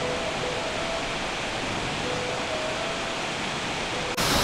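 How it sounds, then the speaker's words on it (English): The main waterfall of Takachiho Gorge, Japan, roars in a loud, constant rush of white water that fills the scene, with no voices over it. "Here we have the main waterfall."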